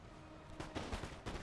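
Musket volleys from Highland infantry in the Napoleon: Total War game crackle in several quick, moderately distant bursts, a ragged scatter of shots over a low battlefield rumble.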